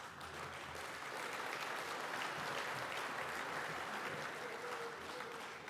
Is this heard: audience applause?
yes